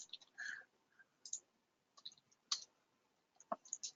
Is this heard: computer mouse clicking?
yes